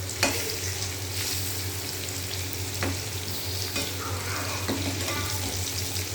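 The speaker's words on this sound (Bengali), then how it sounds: "তাহলে আলুগুলো ভাজা হতে থাকুক।" Potatoes frying in oil in a home kitchen, a steady close sizzle with occasional stirring clicks of the spoon against the pan, and no talking.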